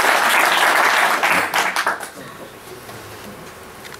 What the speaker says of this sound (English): A big round of applause for Pavel